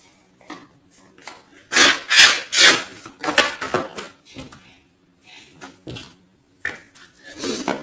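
Tarot cards shuffled and cut into three piles, dry papery slaps and rubbing strokes in uneven bursts, fairly close and moderately loud, with no talk.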